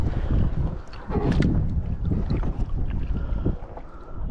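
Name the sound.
strong wind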